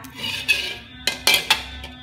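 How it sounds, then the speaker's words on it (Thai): A metal frying pan clanks and scrapes as it is set down on a lit stove, a few sharp knocks close by with no talking. "เราก็จุดไฟตั้งกระทะ"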